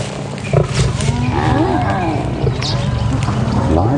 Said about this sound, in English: the lions are going